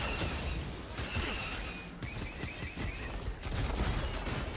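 Gunfire in the Star Wars Jedi: Fallen Order video game, a dense, loud, continuous clatter of blaster shots and impacts with no voices.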